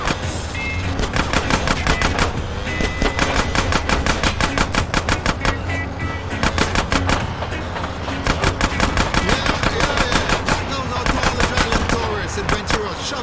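Rapid gunfire in GTA San Andreas Definitive Edition during a car chase, a long run of fast regular shots with brief pauses over a constant engine drone, with voices talking over it.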